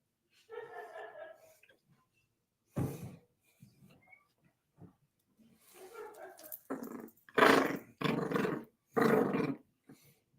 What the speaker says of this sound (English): You hear him growling?